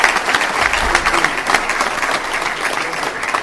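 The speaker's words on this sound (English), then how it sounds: "A big round of applause" An indoor audience at a student pitch competition claps for the judges, dense steady applause close by and unbroken throughout.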